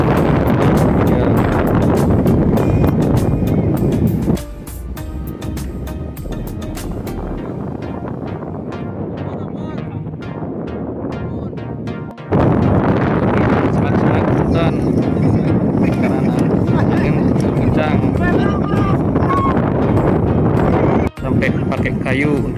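Strong wind roars steadily across the microphone during a Balinese kite event with the Batuk team in Pengelipuran, Bangli, loud and continuous with a brief drop in the middle.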